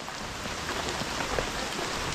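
Light drizzling rain at an outdoor building site, a steady dense patter of drops on surfaces, even and continuous with no voices.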